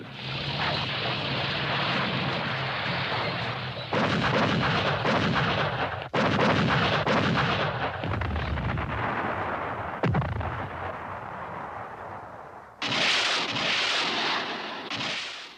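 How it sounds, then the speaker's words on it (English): Artillery barrage during the fall of Da Nang in the Vietnam War, a dense, continuous roar of heavy gunfire and blasts with several sharp bursts and sudden surges, loud and sustained throughout with no speech. "The opening artillery barrage is enough to end resistance."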